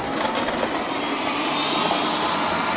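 A Liectroux B6009 robot vacuum runs across lino while picking up scattered crumbs, giving a steady, broadband whirring hum with faint rattles, close and constant, with no speech.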